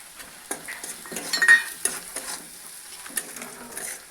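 Lightly fried onion with chili powder, turmeric, roasted coriander-cumin powder and salt sizzles in a pan for Bengali fish curry, with several sharp scrapes of a stirring spoon against the pan. The sound is close and fairly quiet, and no one speaks.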